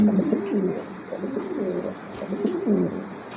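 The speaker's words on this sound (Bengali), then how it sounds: "বাবা কবুতর কোয়ালিটি কবুতর ভাই" Caged pigeons coo steadily in low, throaty rolling phrases that repeat every second or so, close and continuous over a faint background hiss.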